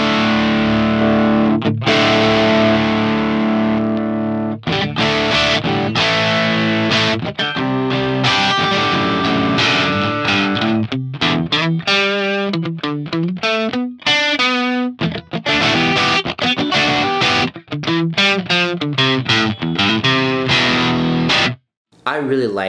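Distorted electric guitar played through an Axe Fx III amp model, the EQ switched on and off, heavy chugging riffs and sustained chords at a loud, close level with only brief gaps between passages.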